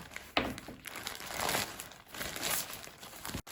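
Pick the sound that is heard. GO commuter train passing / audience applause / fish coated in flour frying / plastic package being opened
plastic package being opened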